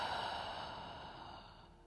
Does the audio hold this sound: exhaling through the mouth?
yes